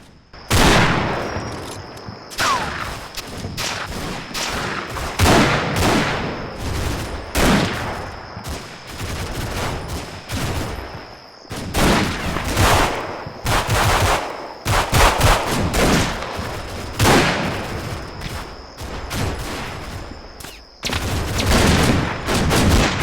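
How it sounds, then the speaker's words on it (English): Long-range gunfire in the World War II strategy game Combat Mission: Fortress Italy, fought among ruins near a beach: repeated loud machine-gun bursts and rifle volleys with short pauses, continuing throughout with no talk. "Gradually, the long-range shooting engagement begins to take its toll."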